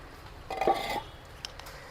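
An old jail door lock in Udupi is worked shut: a short metallic clanking and scraping of iron parts lasting about half a second, then one faint click, in a quiet room.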